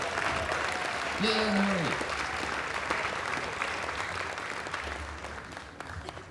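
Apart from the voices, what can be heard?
audience applause for mountain dulcimer players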